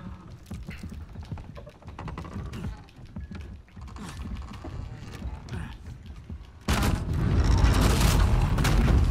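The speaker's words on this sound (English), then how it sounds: "Lower the bridge, then I'll reload the pistol." A drawbridge being lowered in the video game Uncharted 4, heavy mechanical creaking and clanking that ends in a loud, sustained rumbling crash of the bridge coming down.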